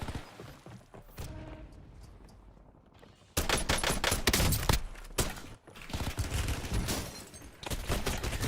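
Bursts of rapid gunfire from an enemy in a Call of Duty-style video game, a faint rattle at first, then loud sustained volleys of crackling shots with a brief pause midway.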